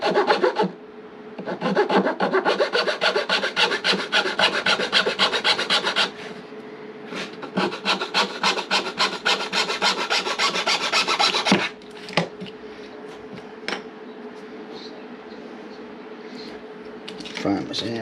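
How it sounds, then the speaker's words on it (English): Sandpaper rubs against a wooden piece being fitted snugly, with brisk, loud back-and-forth strokes in steady rhythm, then lighter, intermittent passes later over a low steady hum. "then we'll sand it until it gets like a nice snug little fit in there"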